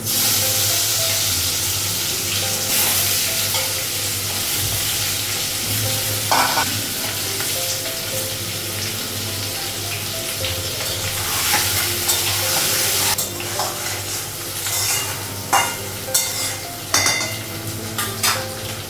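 Steady sizzling of egg and potato frying in a pan fills the clip, with occasional stirring clatter and utensil scrapes toward the end.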